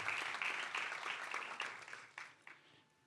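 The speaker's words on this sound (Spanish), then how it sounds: "la vamos a recibir con un fuerte aplauso" Applause from a youth church audience welcoming a student to the front, steady clapping fading toward the end, fairly faint and alone without talk.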